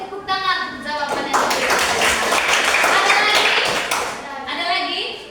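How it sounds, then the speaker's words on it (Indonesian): A church class group bursts into lively applause that lasts a few seconds, with voices speaking briefly before and after the clapping. "tepuk tangan untuk jawabannya"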